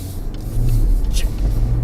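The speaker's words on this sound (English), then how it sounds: "driving the GWM Tank 300 plug-in hybrid" GWM Tank 300 plug-in hybrid SUV driving, a steady low engine and road rumble filling the cabin, continuous and moderately loud with no talk over it.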